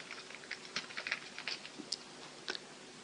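Fingers tap out a short burst of irregular, quick keystrokes on a computer keyboard, close and clear, with no voices.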